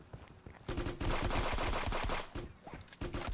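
Turret gunfire in Counter-Strike 2, loud rapid automatic bursts with brief gaps, the fire stuttering and resuming several times.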